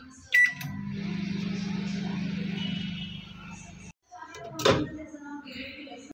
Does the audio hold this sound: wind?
no